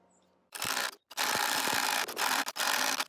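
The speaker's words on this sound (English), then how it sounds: "Now to drill the hole." Loud bursts of drilling into a hollow log, a harsh grinding roar that stops and restarts several times with brief pauses between.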